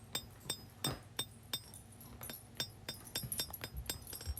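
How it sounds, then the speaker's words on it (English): A big hammer strikes steel during hand forging of a knife, giving sharp metallic clinks at irregular intervals, sometimes in quick bursts, fairly faint against a quiet workshop background with no speech. "Now we can move some steel with the big hammer."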